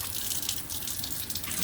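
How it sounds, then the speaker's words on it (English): Salt water poured off soaked strawberries and a rinse at the kitchen sink, a steady splashing rush of running water that holds for the full couple of seconds without any voices. "They've already soaked in the salt water. I'm just gonna pour that off."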